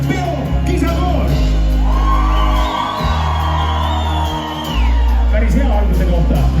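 A concert crowd at an early-summer party show in Kadrina, Estonia, shouts, whoops and cheers loudly and continuously, with individual yells rising above the dense roar while a loud low rumble sits beneath.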